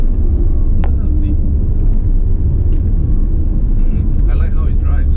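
2019 Ferrari Portofino cruising at an easy pace, a steady low road rumble and engine drone heard from inside the cabin, with faint scattered clicks over the top.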